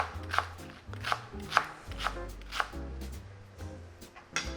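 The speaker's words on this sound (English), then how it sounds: "we're gonna go ahead and chop up our bok choy. Just wanna do it in nice, thin little slivers" A knife chopping bok choy into thin slivers on a cutting board, a steady series of crisp close strikes about every half second.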